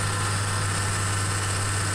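A tractor engine in Farming Simulator 17 drones at a loud, constant pitch with a steady low hum and a smooth, unbroken run and no voices over it.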